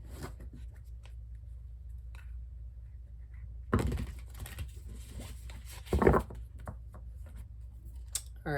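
Tarot cards shuffled by hand at close range in a quiet room, soft riffling and slapping bursts with a couple of louder flurries amid light pattering handling noises.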